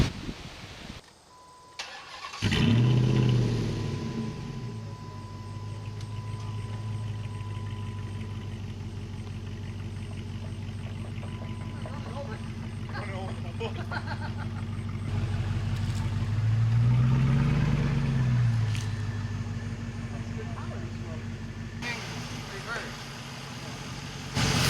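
A Hemi engine in a bare Durango chassis, body-dropped under a 1960 milk van, cranks and catches, then idles and rumbles steadily as the chassis is driven a short way, with a brief rise in revs partway through.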